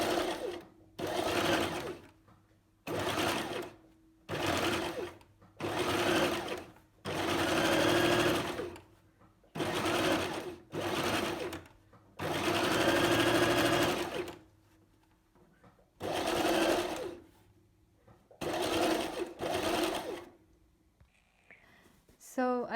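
Sewing machine stitching an elastic waistband, running in about ten separate bursts of a few seconds each with short pauses between, loud and close, no talking.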